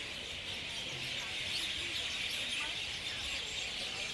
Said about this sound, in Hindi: यहाँ पे ना 2-3 पेड़ हैं, उसके ऊपर इतनी सारी चिड़ियाँ हैं और there is a lot of chirping sound